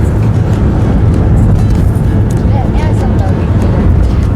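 A car driving on a road during a monsoon-season road trip through the Konkan region of Maharashtra, heard as a steady, loud in-cabin engine and road rumble throughout, with faint voices in the background.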